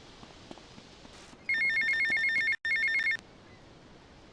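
A payphone near a mall in Washington rings in GTA Vice City: one electronic bell burst, a short gap, then a second burst, standing out loud and close against quiet street ambience.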